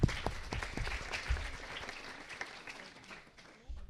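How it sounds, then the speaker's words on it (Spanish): Audience applause at a school science event, a fairly faint wash of clapping that starts with a few sharp claps and gradually thins out. "Un aplauso para todos ellos."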